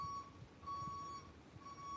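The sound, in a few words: electronic beeping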